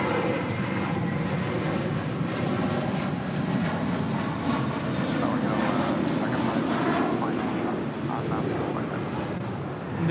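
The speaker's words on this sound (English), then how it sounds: "This departure is American 2110 departing to Boston on an A321." An American Airlines Airbus A321 jet departs from a runway at LAX, its engines a loud, steady roar with a broad rumbling hiss that holds throughout, fairly close, no clear talking.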